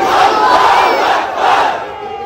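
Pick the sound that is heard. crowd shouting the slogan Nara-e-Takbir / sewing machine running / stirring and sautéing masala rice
crowd shouting the slogan Nara-e-Takbir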